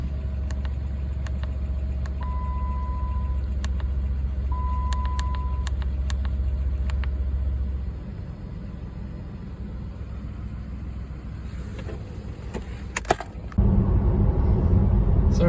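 A 2008 Dodge Nitro 3.7 engine idles after a fuel injector repair with a steady low rumble, broken by a few short electronic beeps; the note shifts lower midway, then clicks and a louder revving close it.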